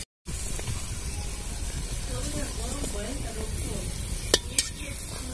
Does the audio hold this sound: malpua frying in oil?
yes